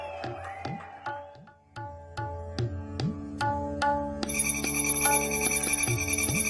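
Mobile phones announce a cash-transfer message with a notification tone: a rhythmic series of repeated chiming beeps that becomes a denser, continuous ringing melody about two-thirds of the way through.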